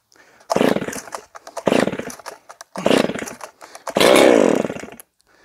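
Chainsaw fitted with a brand-new steel RS 325 race chain cutting through wood, loud and close, in four throaty bursts of high revs, the last the longest, with short drops toward idle between them.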